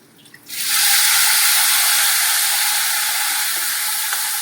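Water poured into a hot pan of frying coconut with sugar erupts into loud sizzling, rising sharply and then holding a steady bright hiss that slowly eases, close up.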